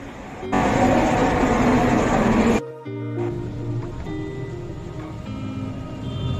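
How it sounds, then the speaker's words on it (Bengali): A Kolkata metro train rumbles into the station loudly with broadband roar, cuts off briefly, then settles into a lower hum with tonal whines as it comes to a stop. "এখন মেট্রো ট্রেনটা অলরেডি চলে এসেছে"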